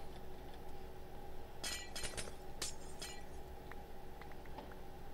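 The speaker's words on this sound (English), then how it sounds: "I never mentioned I absolutely hate the glass breaking noise." Glass blocks shatter in Minecraft with the Feed the Beast modpack, a quick cluster of sharp breaking crashes over a steady game background hum, followed by a few faint clinks.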